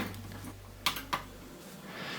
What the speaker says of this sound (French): préparez-vous à spammer la touche F2 ou Delete de votre clavier pour aller dans le BIOS